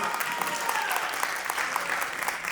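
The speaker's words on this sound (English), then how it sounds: "Give her a round of applause." An audience at a hip-hop dance panel event claps in a steady, dense burst of applause that carries evenly through the whole moment, with a few voices mixed in beneath it.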